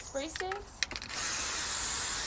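A 1956 Chevrolet hot rod is spray-painted from Turbo spray cans: after someone speaks briefly, a loud, steady, close aerosol hiss starts and runs without a break.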